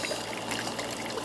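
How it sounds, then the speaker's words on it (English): Water trickles and streams steadily through a makeshift pump-fed cooling setup for a water-cooled condenser, a continuous close splashing flow with no talk. "this is my cooling apparatus for my water-cooled condenser"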